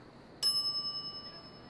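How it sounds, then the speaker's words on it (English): A counter bell in the game Monkey Island gets a single sharp ding, its bright metallic tone ringing on and slowly fading, alone with no talk. "Idiot's already ringing that stupid bell"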